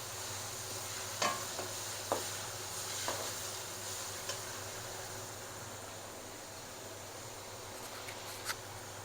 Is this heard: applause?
no